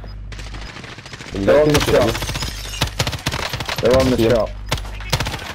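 Rapid automatic gunfire bursts out twice in a PlayStation 4 shooter game, loud close volleys with scattered single shots between, while players talk over it.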